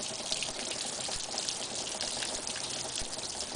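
Water sprayed over a car body to test for a leak around a door seal and taped body seam, a steady, even hiss and patter running throughout with no talking.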